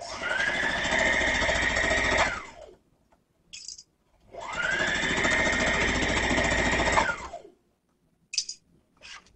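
Close by, a sewing machine runs two loud, sustained bursts of stitching along the seam of an elastic waist skirt, separated by a pause and followed by brief clicks and short handling noises.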